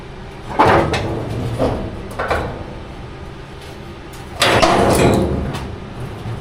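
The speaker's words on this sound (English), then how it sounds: "I dropped the tailgate" A Chevy 3100 pickup tailgate is dropped open in a workshop, giving a few loud metallic clunks and bangs spread across several seconds, with no talking.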